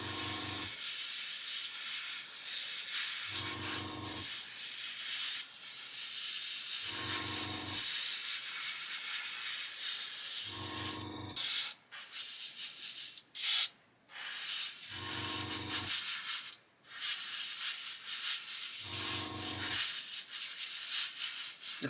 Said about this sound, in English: the reason it's clogging up is because I'm trying to spray it so finely